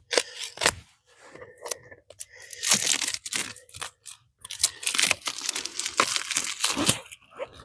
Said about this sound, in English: Get the plastic off of it.